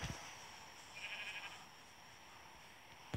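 A sheep bleats once, short and fairly faint, inside a Minecraft-style video game, followed by a sharp click at the end.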